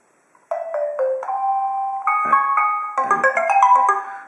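An alarm ringtone plays on a Nexus 7 tablet running Android 4.2 Jelly Bean: a bright, steady electronic melody of stepped tones that starts after a short silence and builds into denser, busier chimes toward the end, loud and clear with no talking.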